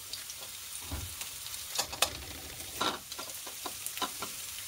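Garlic and onion frying in hot oil, a soft sizzle with scattered louder pops and stirring clatters, close and moderately loud, no voices.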